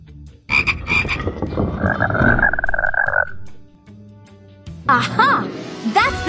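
Cartoonish frog croaks in a Paw Patrol jungle video game, bursts of croaking with warbling tones and pauses between them, mixed with game music and effects.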